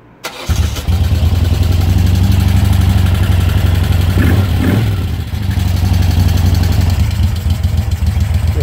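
A motorcycle engine running just after a cold start on choke catches and settles into a steady, loud, close idle with a slight rough pulse throughout, no voices.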